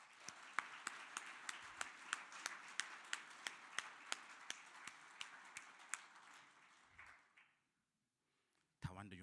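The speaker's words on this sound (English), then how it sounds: "please let's give him a round of applause" An audience at a graduation ceremony in Johannesburg gives a round of applause, a dense spread of clapping with prominent individual claps, fading out after about seven seconds into near silence before a voice returns.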